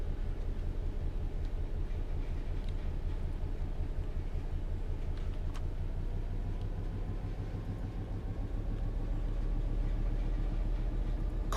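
A Class 86 electric locomotive hauls freight along the Gospel Oak to Barking line in Train Sim World 4, giving a steady low rumble and rolling rail drone that holds at an even loudness throughout.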